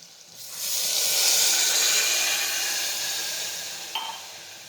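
Water poured into a hot pan of spiced potato curry gives off a loud, steady hiss of steam that swells at once and slowly fades, with a small clink near the end and no voices.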